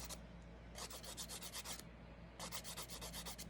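Electric nail file fitted with a diamond bit buffing a natural nail, a close, steady high whirring rasp in two long bursts separated by a brief pause, with no voices.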